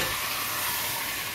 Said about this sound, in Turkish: Salçamızı kavurduk. Domateslerimizi ilave ediyoruz.